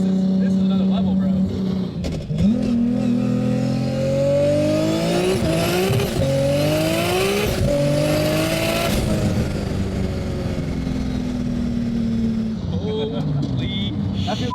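A 1600 horsepower Nissan Skyline GTR with a 3.6-litre RB engine accelerating hard on 17-inch Mickey Thompson tires, its engine note climbing loudly through gears with sweeping pitch rises, tire noise underneath and voices talking over the roar.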